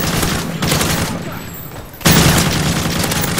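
Gunfire and explosions in Call of Duty: Modern Warfare 3 survival mode: a sustained loud rattle of shots, a quieter lull, then a heavy booming blast followed by continued dense firing.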